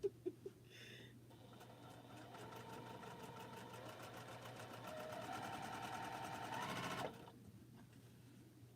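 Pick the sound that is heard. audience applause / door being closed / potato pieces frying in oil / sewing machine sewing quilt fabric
sewing machine sewing quilt fabric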